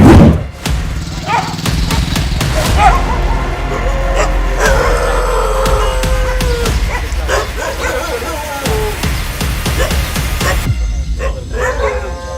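Stray dogs in a street neighbourhood bark and yip repeatedly, fairly close and loud, with whimpers and a few thuds mixed in, over steady outdoor background noise.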